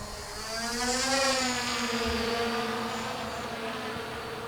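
A Hubsan Zino quadcopter drone flies out over a lake, its rotors giving a steady buzzing whine that swells as it passes nearest and then eases off, alone without talk.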